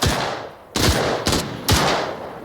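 Three sharp gunshots crack in fairly quick succession in the video game Arena Breakout: Infinite, each followed by a decaying echo, with a faint blip in between and no talking.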